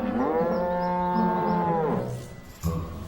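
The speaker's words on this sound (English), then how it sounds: "you're a lovely cow" A cartoon cow lets out one long, drawn-out moo with a wavering, musical pitch, followed by a brief pause and a short sound at the end.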